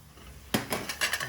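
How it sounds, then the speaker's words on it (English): Cooked spinach is scraped out of a cooking pan with a utensil, giving a sudden metallic clatter and then several quick scraping knocks close by. "Now I'm going to remove it from the pan."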